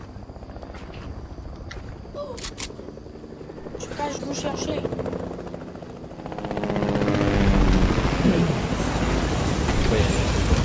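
Helicopter rotor chatter from a helicopter battle in Fortnite, a steady droning whir that grows louder and denser toward the end, running under a voice.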